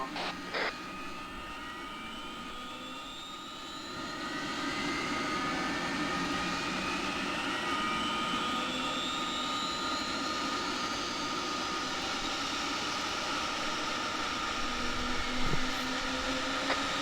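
A helicopter engine in Arma 3 spools up, its turbine whine climbing steadily in pitch and loudness after a quiet start. It then holds a loud, continuous roar with rising tones, and no clear talk is heard over it.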